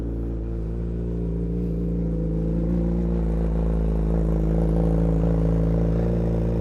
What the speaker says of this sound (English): we're gonna go ahead and get this cold start going